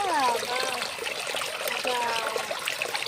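Steady water gushing and splashing from a pipe fed from a hill, loud and continuous, with people talking over it.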